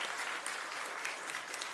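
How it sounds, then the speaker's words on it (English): A crowd at an Orange County Board of County Commissioners meeting applauds the utilities department, a steady, dense round of clapping that fills the whole stretch without a break. "let's give our utilities department another big round of applause."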